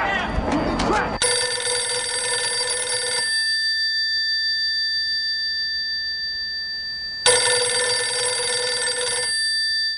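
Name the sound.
telephone ringing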